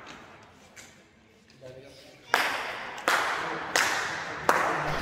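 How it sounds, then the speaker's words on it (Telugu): A man claps inside a stone tomb, a few faint claps at first followed by four loud, sharp claps spaced about a second apart, each ringing with a reverberant echo, with talking heard faintly. "లోపలికి వెళ్ళి చప్పట్లేదో కొడుతున్నాడు"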